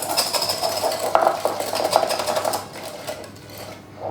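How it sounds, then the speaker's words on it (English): Steady scraping and clinking of a whisk working through thick fresh-fruit jam set with agar agar in a bowl, continuous with rhythmic strokes, close up and fairly loud. "with a whisk, just break it down like this, and then just whisk it"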